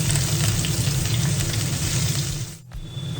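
Chopped onions sizzle steadily in hot oil with whole garam masala, a loud continuous frying hiss with a brief dip near the end as the pan is stirred.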